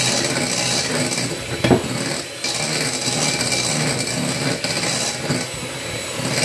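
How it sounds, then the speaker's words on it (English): Meringue for a lemon meringue pie being beaten with an electric whisk, a steady close whirring drone that runs throughout with a few brief bumps and no talking. "Whisking it now."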